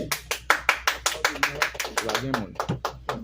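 A small group claps hands in applause, a fairly close, uneven run of sharp claps at a steady pace, with a voice speaking over them throughout.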